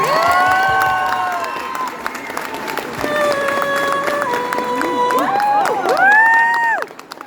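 A concert crowd at Lorcaquest cheers and applauds, a sustained wash of clapping carrying high whoops and shouted cheers that swell toward the end before cutting off.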